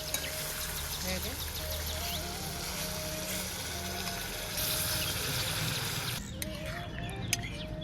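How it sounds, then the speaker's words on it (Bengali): Water pours steadily into a pot of chicken curry being cooked outdoors in the sun on a rooftop garden, a continuous splashing trickle with faint voices in the background. "চলো এবার এটাতে জল দিয়ে দেবো।"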